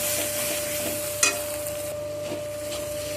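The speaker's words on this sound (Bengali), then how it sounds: "এখন এর মধ্যে আমি দিয়ে দেবো অল্প একটু ধনে পাতা, দিয়ে সব কিছুকে আবারও কষিয়ে নেব।" Spices stir-fried with a little fresh coriander leaves in a pan for a pea, egg and potato ghugni, with a steady low sizzle, a sharp scrape of the spoon, softer stirring knocks and a faint constant hum.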